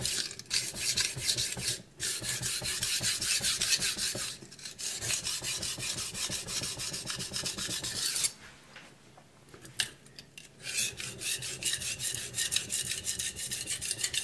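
A knife is sharpened on a coarse Shapton Pro whetstone, making a continuous rhythmic rasping scrape of rapid back-and-forth strokes, close and fairly loud, with brief pauses between sets.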